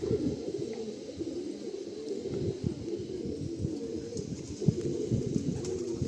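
Pigeons in a breeder's loft of Madrasi pigeons, a steady chorus of low throaty cooing from several birds close by, continuous and layered with soft wing and shuffling noises, no talk.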